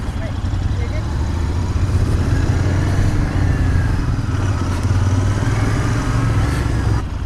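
A motorcycle engine drones steadily during a test ride at IMS Outdoors, a continuous mid-range rumble with faint shifts in pitch over wind and ride noise.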